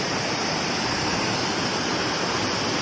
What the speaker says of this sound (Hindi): ओह यहाँ पानी का साउंड देखिए